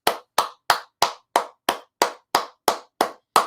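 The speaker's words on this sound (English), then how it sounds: "Give yourself a hand clap." Hand clapping, eleven crisp, evenly spaced claps about three per second, close and loud, with nothing else in between.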